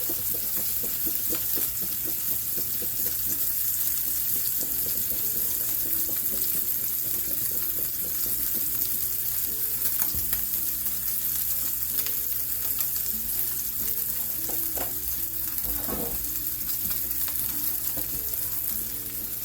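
Lamb gyro filling fries loudly in a pan while it is mixed, giving a dense, continuous sizzle with repeated scraping and clattering strokes of the utensil. The noise is steady and close, and no one speaks.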